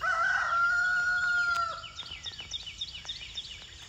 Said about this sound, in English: So the birds are singing.